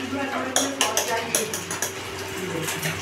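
Potato chop batter of gram flour with a pinch of baking soda and salt being stirred by hand in a bowl, giving repeated soft scraping clinks against the bowl and close wet mixing strokes, with no talk.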